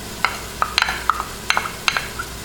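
Onions and garlic being stirred into lean ground beef in a pan, heard as a series of sharp, close scraping and clacking stir strokes at an uneven rhythm over a faint sizzle, with no talking.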